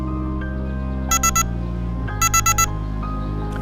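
A Prowess Absolum bite alarm sounds two quick bursts of rapid electronic beeps, first three then four, each bright and close over a quiet steady background hum.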